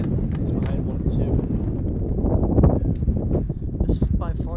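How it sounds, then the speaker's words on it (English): Strong gusting wind buffets the microphone and rattles metal stadium bleachers at a Kansas vs Oklahoma baseball game, a loud continuous roar with clattering bursts while a commentator talks over it. "This is by far the loudest I've heard this wind."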